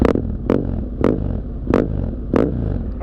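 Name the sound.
rare heavy motorcycle engine revving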